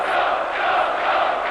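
A boxing arena crowd at the Cordoba versus Tiozzo fight keeps up a loud, steady roar of cheering and shouting with no break throughout.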